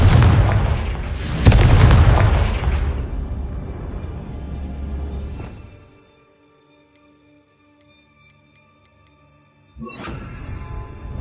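Confringo fire spell blasts in Hogwarts Legacy erupt as loud booming bursts over the first several seconds, then fall silent before another explosive blast near the end.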